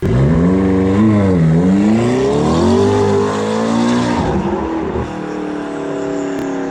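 A 650-horsepower twin-turbo V8 McLaren 650S Spider revs hard and climbs through the gears, its deep roar rising and falling before settling into a lower rumble.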